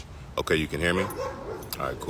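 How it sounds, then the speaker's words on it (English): Dogs bark outdoors in a bursty, mid-distance way beneath a person talking close to the microphone, the yips poking through between phrases. "I'm outside of nature if you hear the dogs barking and whatnot."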